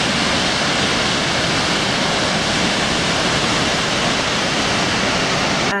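Steady, dense roar of rushing water, unbroken and fairly loud, like a large waterfall in New Zealand heard from nearby.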